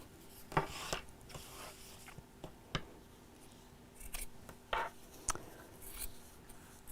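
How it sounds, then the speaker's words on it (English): Scissors snip through fabric beside a ribbon in short, close crisp cuts with irregular pauses between, faint and quiet against a low background hum. "I'm just going to cut that in one side at a time, just to make sure I'm not cutting through the ribbon"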